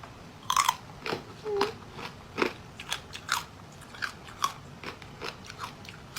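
Repeated crisp crunching bites into crispy pork cooked in an air fryer, a dozen or so sharp crackly bursts at an uneven chewing rhythm, close up with no talking.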